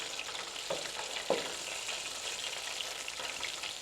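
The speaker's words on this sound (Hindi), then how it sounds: "व्यूअर्स ये देखिए हमारे विंग्स फ्राई हो रहे हैं" Chicken wings for crispy KFC-style hot wings sizzle steadily in a frying pan, a continuous hiss with two brief louder crackles near the start, no voices.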